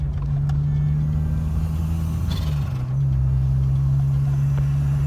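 A turbocharged Ford Ka drives steadily along a road, its engine a constant close drone with a brief change in tone midway, no voices.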